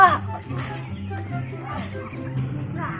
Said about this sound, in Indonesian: Ayam siapa ini?